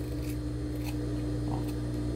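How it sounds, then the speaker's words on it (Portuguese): Scissors trimming material for a small handmade shoe, soft snipping cuts in close succession over a steady low hum, with no talking. "Corto aqui, refilo."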